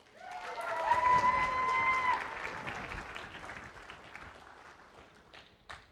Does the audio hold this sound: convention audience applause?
yes